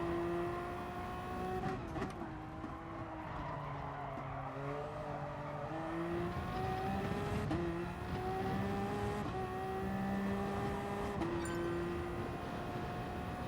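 A hybrid race car in Gran Turismo Sport qualifying runs with a continuous engine whine that rises and falls through gear changes, with brief tyre squeals, loud and steady throughout.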